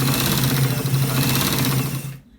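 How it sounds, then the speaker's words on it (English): Close, loud sewing machine stitching a front pocket onto a collar shirt in one continuous steady run that stops abruptly near the end. "So we are stitching it to the top part."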